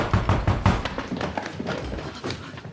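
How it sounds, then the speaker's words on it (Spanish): A series of sharp knocks on a door, several in quick succession, then a few softer thumps, with faint background noise. "Adele está cosiendo los pantalones de Frank, de repente oyen un fuerte golpe en la puerta."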